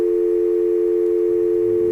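A steady, loud telephone dial tone hums continuously during a simulated phone call to extension 111 in a data communication setup, with no one speaking.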